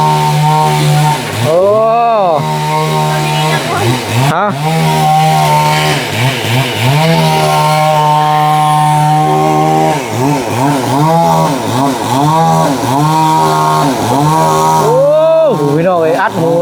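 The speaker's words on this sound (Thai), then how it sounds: "เสียงตัดไม้แล้วบาทนี่" A chainsaw cuts wood up close, loud and continuous, revving up and down over and over as it bites in, with brief spoken exclamations over it.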